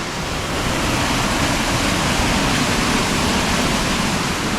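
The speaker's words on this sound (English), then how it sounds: "And this is that waterfall." A forest waterfall at Puck's Glen roars as a loud, steady broadband rush of falling water, close and continuous with no other sounds.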